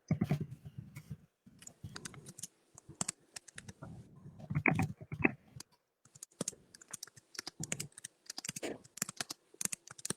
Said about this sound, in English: she's typing back and I'm typing to her in the chat